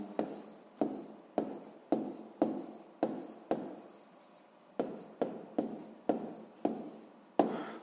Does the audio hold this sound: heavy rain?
no